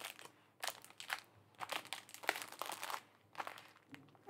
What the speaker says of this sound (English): And I would just close the plastic bag.